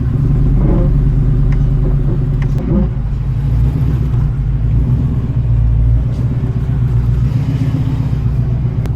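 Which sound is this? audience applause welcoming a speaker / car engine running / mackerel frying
car engine running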